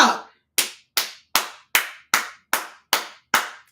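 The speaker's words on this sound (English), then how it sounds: "I got to clap for that." A pair of hands claps about ten times in an even, steady rhythm, each clap sharp and close, with silence between the claps.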